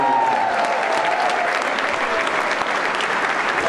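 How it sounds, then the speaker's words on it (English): A crowd at a celebrity chef charity challenge gives a dense, sustained round of applause for a kitchen team. The clapping stays loud and steady throughout, with faint voices underneath. "So I'd like you to give them a big round of applause."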